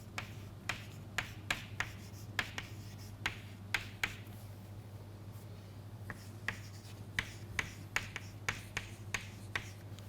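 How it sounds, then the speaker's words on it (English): Handwriting an equation makes quiet, crisp scratching strokes. They come in quick irregular bursts separated by brief gaps, close by and with no talk over them. "let me write the general equation down"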